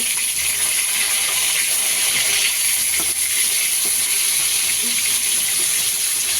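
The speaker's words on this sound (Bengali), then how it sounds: "মাছ ভাজছি।" Fish frying in a pan in a home kitchen gives a steady, loud hiss and crackle that stays even throughout. No one speaks over it.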